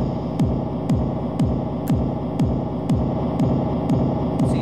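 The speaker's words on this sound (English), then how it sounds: "if I add a kick drum" A deep kick drum thumps in a steady beat roughly twice a second through a DIY spring reverb, each hit trailing a metallic, boingy spring reverb with a low hum beneath.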